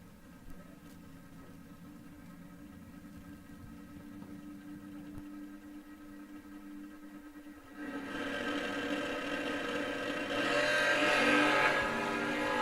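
Drag racing launch at King of the Creek, an Opel against a Ford Ranger truck: a distant engine drone builds into a louder broad roar of accelerating cars over the second half.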